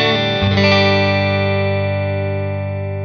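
A Fender Custom Shop Thinline Telecaster with rosewood fretboard, 9.5 radius and bone nut, played on its twisted neck pickup: one loud strummed chord rings out clean and sustains, slowly decaying on its own.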